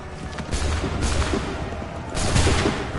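Musket volley from soldiers in Assassin's Creed 3, a dense crackling roar of many shots at once, with a second heavy burst rising near the end amid battle noise.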